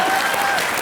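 A brief, loud burst of dense applause from a comedy show audience, steady throughout with no voices over it.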